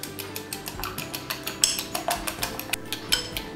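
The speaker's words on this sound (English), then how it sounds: "now I am going to whisk all these things together" Whisking sugar cookie ingredients such as vanilla essence and baking powder in a bowl, a steady run of quick, regular clinks and scrapes of the whisk against the bowl, close and fairly quiet, with no talking.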